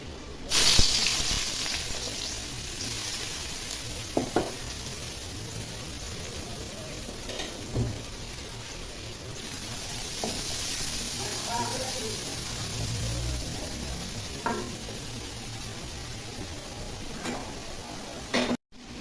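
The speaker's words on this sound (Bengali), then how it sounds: "তেল গরম হয়ে গেছে, এখন পেঁয়াজ কুচি ছেড়ে দিব।" Chopped onions sizzle in hot oil while being stirred for a Bengali hilsa fish korma, a steady frying hiss with occasional clinks and scrapes of a utensil against the pan, running throughout.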